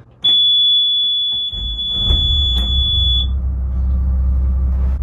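A boat's engine cranks and catches, settling into a low steady rumble, while a loud high electronic alarm tone beeps continuously over the start before cutting off.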